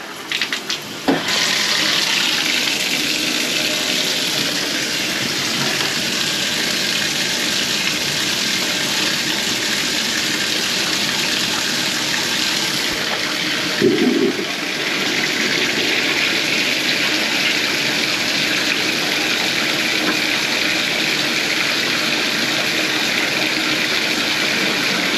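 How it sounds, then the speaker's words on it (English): A weak toilet flush gives way to steady running water that pours and hisses continuously for a long stretch, with a brief clunk partway through and no talk. "I'm gonna flush it one more time until it's gonna come off."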